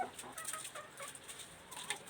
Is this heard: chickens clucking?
yes